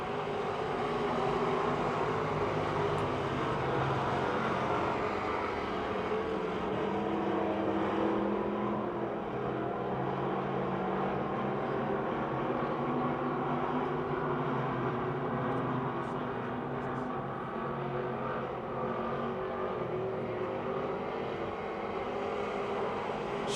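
Stock cars racing on the final lap at Pennsylvania Motor Speedway, an oval in Pittsburgh, heard as a steady, distant drone of many engines, with a few faint bursts near the end.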